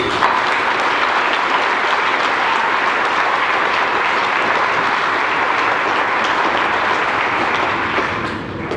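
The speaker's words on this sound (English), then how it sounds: "I think we need to take a moment and applaud our staff, our students, and our families seated here today" Sustained applause from a seated audience at a middle school graduation ceremony, a dense, loud wash of clapping that holds steady for several seconds before easing slightly at the end.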